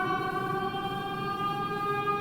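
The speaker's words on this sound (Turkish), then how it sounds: "Siren." A steady, sustained siren wail in Minecraft holds a constant pitch throughout, fairly loud and unbroken, with no one speaking.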